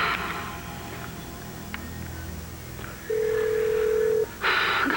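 A cell phone call is dialed and rings through, with a brief tone, a steady held beep, then a louder burst of line noise over a faint hiss.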